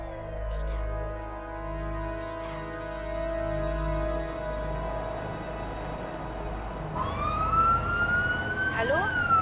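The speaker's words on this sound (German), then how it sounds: "Sind das Sirenen?" Emergency sirens wail from a distance in a Spider-Man game, rising and falling in long sweeps over a low rumble, then a louder, nearer siren tone joins toward the end.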